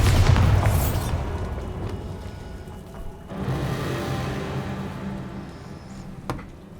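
A Bombarda spell explosion in the video game Hogwarts Legacy bursts with a loud boom at the start, followed by a rumbling tail and a second blast after a brief lull.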